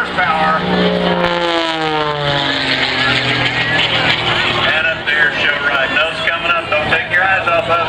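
Aerobatic airplane engine roaring loudly and continuously at an air show as the pilot powers out of a flat spin, with a sweeping, shifting drone under a commentator's voice on the PA.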